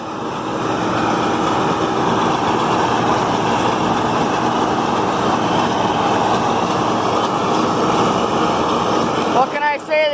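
A John Deere 4440 tractor runs while baling hay with a New Holland baler on a farm, giving a loud, steady engine drone that holds nearly unchanged for about ten seconds before a brief disturbance at the end.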